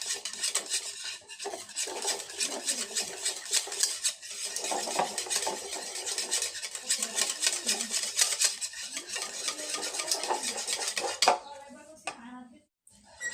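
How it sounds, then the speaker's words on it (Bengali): A whisk clinks and scrapes steadily against a bowl as mango puree is beaten into yogurt for mango doi, a continuous close metallic rattle lasting most of the clip before it stops. "এখন আমি আমের পিউরিটা দিয়ে আবার ফেটিয়ে নেব।"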